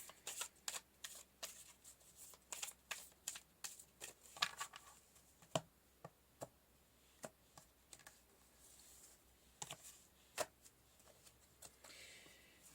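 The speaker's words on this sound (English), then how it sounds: "Okay, so pull some cards for the action and outcome." Tarot cards shuffled and pulled in a quiet room, a run of crisp, sharp riffling snaps and taps at an irregular pace, close and clear with no talking.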